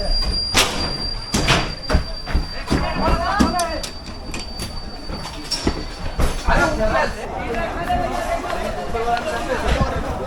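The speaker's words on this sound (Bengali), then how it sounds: "প্ল্যাটফর্মে করা হচ্ছে শান্টিং" A passenger express train shunts at a Howrah station platform, with wheel squeals, metallic clanks and rumbling amid a dense crowd, as people talk and shout nearby throughout.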